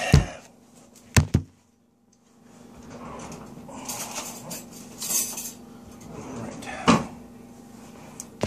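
Someone fetches a butter knife in a kitchen: sharp clacks of cupboards or drawers opening and closing, a brief silence, then rummaging clatter of cutlery and dishes with another knock near the end.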